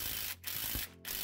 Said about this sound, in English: when you turn the bolt on the puller clockwise, it begins removing the pulley